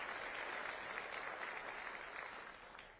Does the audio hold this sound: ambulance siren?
no